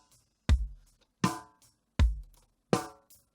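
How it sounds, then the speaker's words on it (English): Sampled bass drum with multi-band compression in a mix, four heavy kicks alternating deep boomy and brighter punchier hits, evenly spaced and loud with no voices. "sampled bass drum,"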